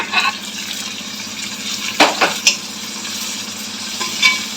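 Tomatoes tumble into a pan of frying chicken curry and get stirred, giving a steady sizzle with a few sharp scraping clatters of the spoon against the pan.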